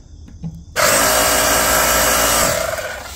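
A garage air compressor switched on after being plugged in starts abruptly into a loud, steady motor roar and mechanical rattle, running continuously close by and alone.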